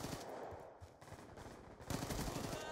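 Gunfire from Call of Duty Black Ops 2 crackles in rapid bursts, a dense run of automatic shots with a louder burst near the end.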